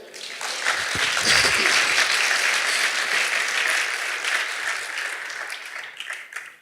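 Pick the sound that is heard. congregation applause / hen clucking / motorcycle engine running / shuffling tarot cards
congregation applause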